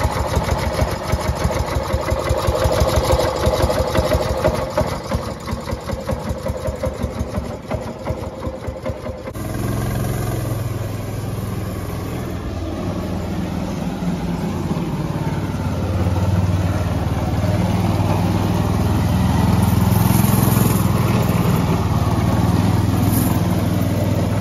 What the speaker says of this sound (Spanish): ya lo echaron a andar. Vean ustedes el motorcito que está súper simpático. Obviamente es un motor de dos tiempos.